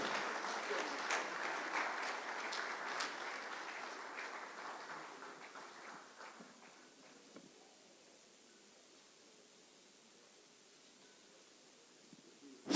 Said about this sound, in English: Please, can I round of applause for these wonderful gentlemen and ladies?